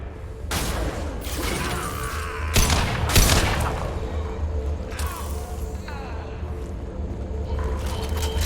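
Gunfire in the Mass Effect video game, several loud, sharp bursts and impacts near each other over a continuous low ambient rumble, with a voice heard briefly.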